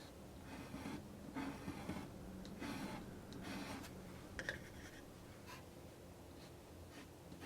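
A fountain pen nib scratching across paper, with soft close strokes coming in short bursts and pauses, faint and intimate, with light breathing in the background.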